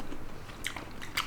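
Bites and chews of a sausage eaten with rice dipped in a spicy kimchi-style stew, two crisp crunchy bites standing out near the end over soft, close mouth sounds.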